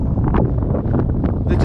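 Strong gusts buffet the microphone on an exposed Welsh mountain ridge at Fan y Big, giving a loud, rumbling roar that swells and dips throughout, with a voice speaking briefly over it.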